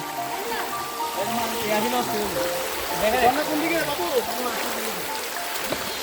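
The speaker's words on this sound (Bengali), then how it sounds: "আমরা এখন দেখতেছি মিঠাইছড়ি ঝর্ণা।" Mithaichhori waterfall flows in a steady broadband rush of water, with a voice talking over it.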